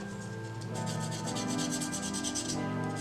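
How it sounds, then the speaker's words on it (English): Sandpaper rubs over a breakable Hydrostone gypsum cement casting, making a steady, soft, close rasping with rhythmic back-and-forth strokes and no talk. "I'm just going to use a little sandpaper"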